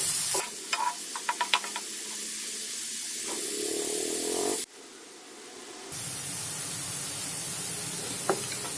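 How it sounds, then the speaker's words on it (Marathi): Chopped onion sizzles steadily in melted butter in a pan for pav bhaji, with a few light clinks of stirring at first, a brief quieter stretch midway, then a bright, continuous frying hiss close up. "बटर मेल्ट व्हायला लागले आता आपण ह्याच्यात कांदा घालूयात कांदा व्यवस्थित आपल्याला भाजून घ्यायचे"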